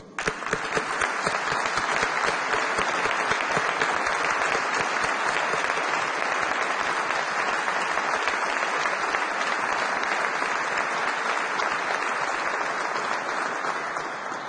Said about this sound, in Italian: Penso che potremo dedicargli ancora un sentito applauso.